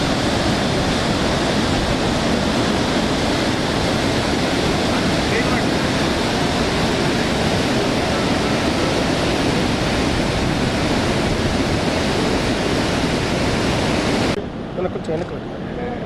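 Water released from Sriram Sagar dam rushes in a loud, steady, broadband roar that fills the whole stretch before cutting off abruptly near the end.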